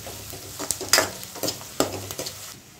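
Chicken with garlic and ginger sizzles in a pan over a high flame, with sharp scraping stirs and clanks of a spatula breaking through a steady frying hiss.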